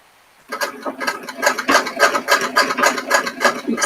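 Sewing machine stitching lace, a close, rapid, rhythmic mechanical clatter that starts abruptly after a quiet moment and runs steadily to the end.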